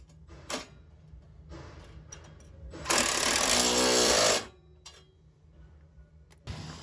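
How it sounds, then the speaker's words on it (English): A 9/16 deep socket tightens bolts on a generator skid plate for a Ram Promaster Winnebago Solis van, a loud buzzing ratchet burst of about a second and a half between quieter clicks and handling sounds. "So you got your 9/16, something to hold it. Another 9/16 deep socket. Just tighten away."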